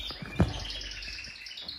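Caged birds give faint, brief chirps close by, with one sharper tweet standing out against quiet background noise.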